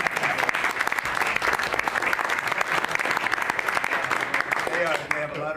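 Applause in a played clip of a crowded political event gives a dense, continuous patter of many hands clapping at moderate loudness, with voices talking over it and the clapping fading near the end.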